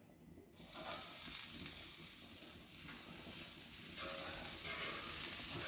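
Pancake batter hits butter on a hot flat iron griddle and breaks into a loud, steady, close sizzle that continues unbroken after a quiet start.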